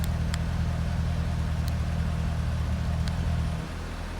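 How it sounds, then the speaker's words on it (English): Idling 2011 Corvette Grand Sport convertible with a mild-to-wild exhaust button, a steady low engine drone heard close, then the rumble drops noticeably quieter near the end as the exhaust switches to its mild setting. "you can make that exhaust loud or quiet with just flick of a button in your hand"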